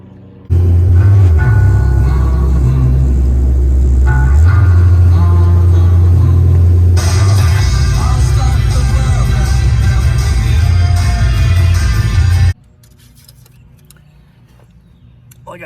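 A 2003 Honda Element with a stuck brake caliper is out on a test drive, giving loud, close road and engine rumble that builds and carries on for about twelve seconds before dropping away abruptly.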